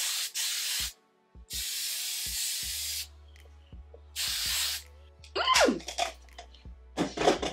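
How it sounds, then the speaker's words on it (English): Several long hissing bursts of an aerosol hairspray can, each lasting about a second, separated by short pauses and faint handling clicks. "I am going to spray my hair with the Tresemme"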